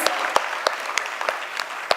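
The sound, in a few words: audience applause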